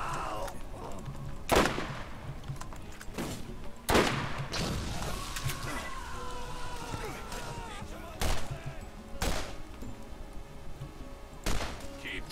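Pistol and sniper rifle shots ring out in the Borderlands video game, sharp single cracks spaced a second or more apart over a low ambient game bed, about seven distinct shots.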